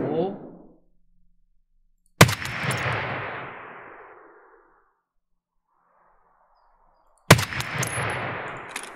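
Single loud gunshots in Escape from Tarkov on the Shoreline map, fired from a high vantage toward a power station; two sharp cracks several seconds apart, each with a long ringing echo tail, and a faint distant report between them.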